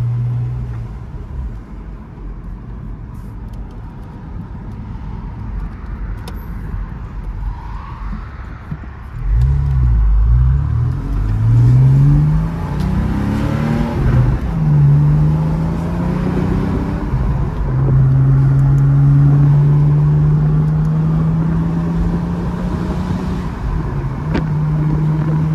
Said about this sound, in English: Sounds so good with the factory sport exhaust.